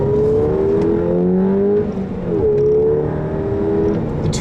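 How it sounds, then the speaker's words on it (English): The 2-liter turbo engine of a 2010 Volkswagen GTI 6-speed revs up in rising, snarling sweeps, drops briefly at a shift, then climbs again, loud and close from inside the car. "The 2-liter turbo makes the most refined noises in the class."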